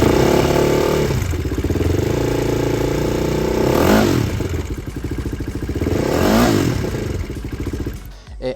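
A KTM RC390 Cup RR track bike fitted with a Tyga titanium full exhaust system revs hard and loud at close range, its engine note rising in two sharp blips over a steady, raspy idle.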